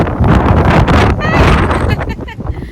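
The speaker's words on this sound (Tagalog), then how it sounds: "Sobrang mahangin ngayon dito. Parang may bagyo." Strong wind buffets the microphone in loud, steady gusts outside a church in stormy weather after rain, with a voice talking underneath.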